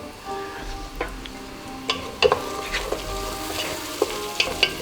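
A sauce for Gheymeh Polo sizzles and fries in a pan as cumin and cardamom go in, a steady close crackle broken by soft stirring scrapes and small pops.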